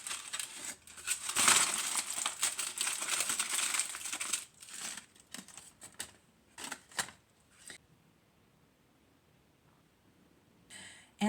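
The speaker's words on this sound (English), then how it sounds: "I just have to take this foil off of them." Aluminium foil peeled and crinkled off a tray of stuffed peppers, a loud burst of crumpling for about four seconds, then scattered short rustles and crinkles before near silence.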